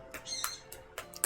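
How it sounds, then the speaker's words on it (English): Birdsong in a video game world, Final Fantasy XIV: a few short, bright chirps and squawks come in spaced bursts over a steady low background hum, moderately faint. "The birds in the background for FF14 sound so real."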